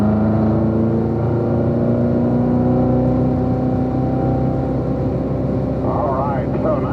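A car picks up speed on a race track, its engine droning steadily and loud throughout with a sustained tonal whine, while an instructor's voice talks over it.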